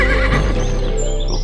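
A horse neighs loudly and close, a shaky whinny that wavers and fades over a second and a half, heard on its own with no talk.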